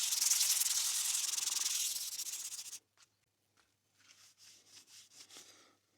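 Rubbing and scrubbing on a Stanley No.3 wood plane being cleaned: a steady, fairly close abrasive hiss for nearly three seconds, then a pause and a few shorter, softer strokes.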